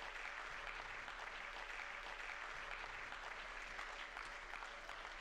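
A church congregation applauds in a steady, even roar of many hands clapping, distant and continuous throughout with no pauses.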